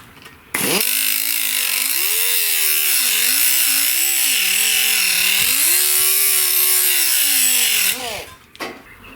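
An angle grinder works a metal patch panel for the front fender of a 1969 Chevrolet C10 in rust repair, one loud continuous whine that wavers in pitch as pressure shifts for about seven seconds, then stops.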